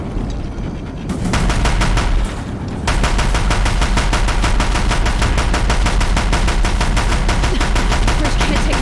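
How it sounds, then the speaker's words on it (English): Deathbringer machines in Horizon Zero Dawn fire in loud, rapid machine-gun bursts, first in a short volley and then in sustained, dense gunfire that hammers on for several seconds. "If the Deathbringers keep firing, this bridge will go."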